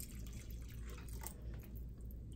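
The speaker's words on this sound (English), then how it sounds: "I'm going to add a little bit more" Water trickles into a pot of vegetable soup, a faint, steady liquid pour with soft dripping spread evenly through the moment, no voices over it.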